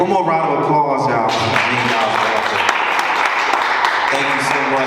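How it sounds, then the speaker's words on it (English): A room applauds during an orientation speech at a soul music school, with steady clapping mixed with music and voices over five seconds. "All right, one more round of applause"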